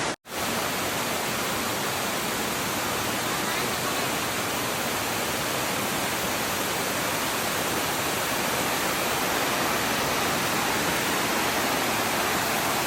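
Pearl waterfall near Silvermine cave in Mui Wo rushes in a steady, dense roar of falling water, loud and continuous from start to finish with no voices.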